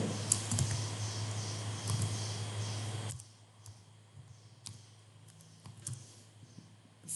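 Rapid clicking of a computer keyboard as text is entered into an Excel spreadsheet, with steady close keystrokes that thin out into sparser taps over a quieter background, no speech.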